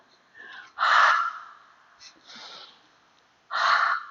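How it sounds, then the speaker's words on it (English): Warm-up breaths in a home yoga and relaxation practice, with two strong airy exhales through the mouth and softer breaths between them, close and alone. "now let's do a warm-up breath"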